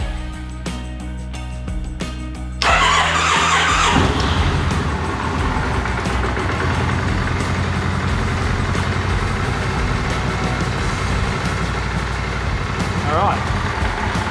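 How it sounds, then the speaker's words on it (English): Kawasaki Vulcan motorcycle engine starting up, a sudden loud onset that settles into a steady low rumbling idle that runs on close by while someone speaks. "So turn the bike on."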